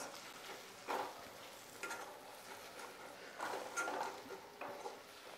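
Pindi chole being stirred in a pot with Kashmiri chilli at a Patna street food stall, soft scraping and clinking of a spoon against metal in a few separate strokes over a faint sizzle.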